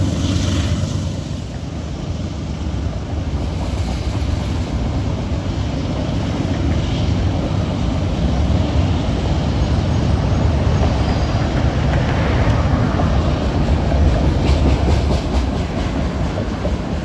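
A Norfolk Southern freight train heading for Chicago out of E-Rail in New Jersey rolls past on the Pittsburgh Line in autumn, a loud steady rumble with clattering wheels and cars that holds for the whole stretch, with no voices.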